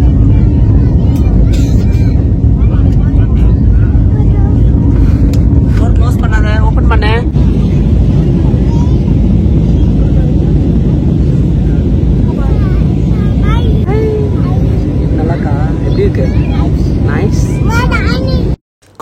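Cabin noise of an airplane taking off on a passenger flight to Coimbatore, a loud steady engine roar and rumble filling the whole stretch, with people talking over it throughout.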